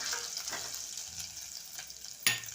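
Homemade ginger-garlic paste fries in a pan for a bottle gourd dal, giving a steady low sizzle with occasional stirring scrapes and one sharper clink near the end.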